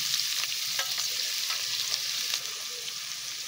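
Finely chopped onion frying in a pan for butter chicken masala, a dense, even sizzle with a few soft spoon scrapes, close and steady throughout.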